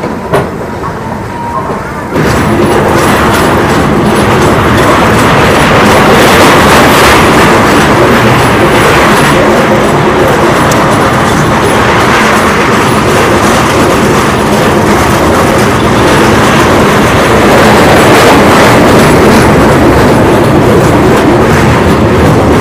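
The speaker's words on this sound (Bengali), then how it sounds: "চেন্নাই বন্দে ভারত এক্সপ্রেস।" The Chennai Vande Bharat Express passes close by at Vijayawada station: after a brief quieter opening, a loud, continuous rolling rumble with rhythmic wheel clatter sweeps in and holds steady to the end.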